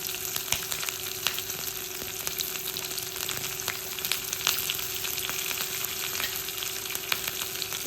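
Crushed ginger and green chili fry in hot oil in a pan, producing a steady, close sizzle with occasional crackles and pops throughout.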